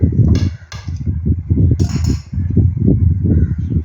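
A utensil cuts steamed vattayappam on a plate, giving a few sharp clinks and scrapes against the dish over soft rustling handling noise, close and moderately loud.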